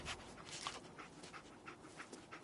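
Dogmeat, the German shepherd companion in Fallout 4, pants in quick rhythmic breaths, close and fairly soft, with no talking.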